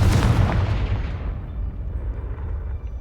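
A Confringo explosive spell from Hogwarts Legacy detonates in one loud, deep blast that rumbles away and fades over a few seconds, with no one talking.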